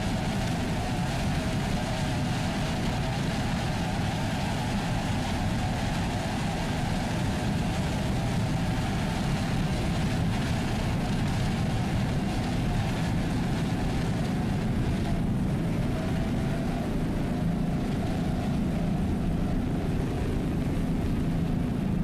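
Super Cat Light Outboard racing powerboats drone steadily with their outboard engines, a dense, continuous roar of engine and water noise that holds level for the whole stretch, with no voices.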